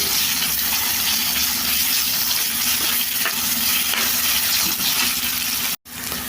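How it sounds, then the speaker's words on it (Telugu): Ginger garlic paste sizzling and frying steadily in a hot pan while being stirred, a loud continuous crackle that breaks off briefly near the end. "అల్లం వెల్లుల్లి పేస్ట్ వేసుకొని ఒకసారి బాగా కలిపేసుకున్న తర్వాత ఒక రెండు నిమిషాలు ఫ్రై చేసుకోవాలండి"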